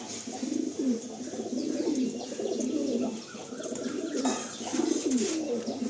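Domestic pigeons in a loft, a nesting pair of red-check male and female, coo steadily in soft overlapping rolling calls, close and continuous, with a few faint chirps and no talking.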